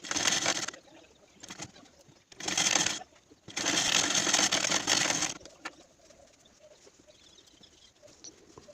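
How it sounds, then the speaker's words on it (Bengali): A sewing machine top-stitching princess-cut blouse fabric onto its lining. It runs in three bursts of fast, whirring stitching separated by short pauses, then goes quiet apart from faint handling noises. "তারপর পিনগুলোকে খুলে নিয়ে চাপ সেলাই দিয়ে দেবো লাইনিংয়ের ওপর।"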